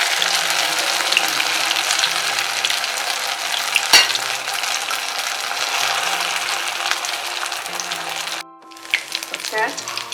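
Stuffed lauki (bottle gourd) frying in hot oil in an iron kadai, a steady close sizzle and crackle that drops off sharply near the end, followed by a few clinks.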